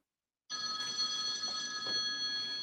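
A telephone bell starts ringing abruptly after a moment of silence, then rings on steadily and insistently through to the end of the clip.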